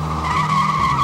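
Ghostbusters car skidding in GTA 5, a loud sustained tire screech over a steady engine roar, continuous for the whole second with no voices.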